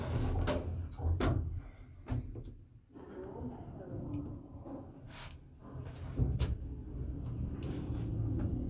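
Elevator doors slide shut as the lift prepares to go down, giving a few soft thuds and clunks amid background rumble, with people talking nearby.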